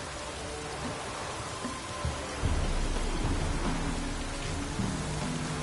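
Heavy rain in the video game The Witcher 3: Wild Hunt pours in a dense, steady hiss that grows louder partway through, with a low rumbling underneath and no voices.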